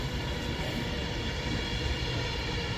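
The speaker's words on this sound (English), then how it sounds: "pair of Avanti West Coast Class 805 or a single 805 running from Holyhead to London Euston" An Avanti West Coast Class 805 train runs past at Rugby on the West Coast Main Line, a steady broad rumble and rail roar holding level throughout, close and continuous with no voices.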